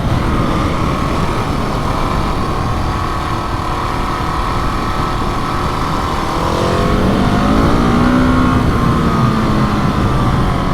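A KTM 701 Enduro single-cylinder motorcycle engine under way, a loud, close, steady drone with wind rush that rises in pitch as the rider accelerates near the end; no talking.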